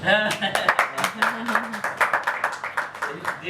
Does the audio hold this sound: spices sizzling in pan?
no